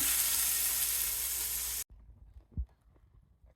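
Pork and garlic fry in hot oil, giving a loud, steady sizzle that stops abruptly, followed by quieter clinks and a low thump.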